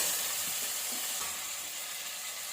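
Two medium-size tomatoes hit a hot pan for paneer biryani and fry with a steady, close, hissing sizzle that eases slightly as it settles, with no talking.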